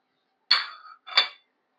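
Pieces are dropped into a cooking pan for pindimiriyam, giving two quick, close clinks and clatters about half a second apart, against silence.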